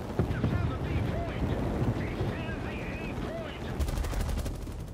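Video game gunfire crackles in quick, continuous bursts over a rumbling, noisy battle backdrop, with players talking throughout.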